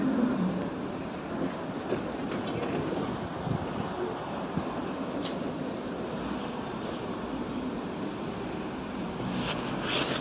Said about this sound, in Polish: No bana se jedzie, czyli tramwaj.